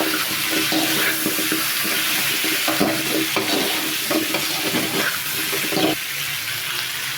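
Drumsticks being stirred in a pan of sizzling kootu, a loud, continuous frying hiss with repeated scraping and clattering strokes of the spoon throughout.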